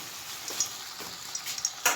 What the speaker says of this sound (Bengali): এই কড়াইয়ে দেখছেন যে কফি হচ্ছে তেল দিয়ে ভেজে